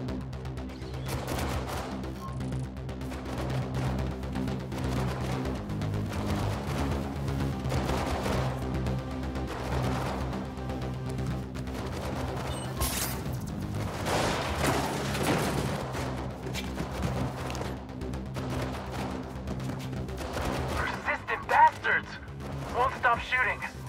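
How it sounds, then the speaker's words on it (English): Gunfire in the video game Mirror's Edge, a dense ongoing barrage of rapid shots and booms mixed with game music and sound effects, with a voice speaking over it. "Be careful you don't get into their field of fire, Faith."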